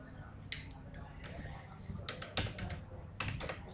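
Close, quiet typing on a computer keyboard while Java code is entered: irregular clusters of light key clicks with short pauses between bursts.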